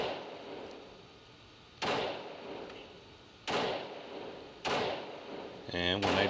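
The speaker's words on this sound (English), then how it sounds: "Here's another 6 shots now at the hand on the target." A Glock 17 pistol fires at an outdoor target: sharp, loud individual shots with gaps of a second or more between them, against a faint background hiss.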